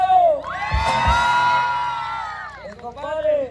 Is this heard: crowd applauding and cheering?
yes